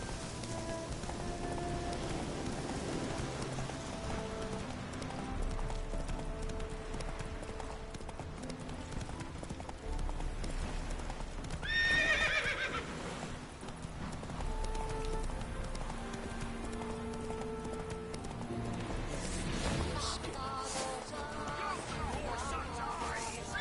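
In The Witcher 3 video game, the horse Roach gallops with fast, steady hoofbeats over rain falling on the ground, with a brief neigh-like cry in the middle and a voice speaking once.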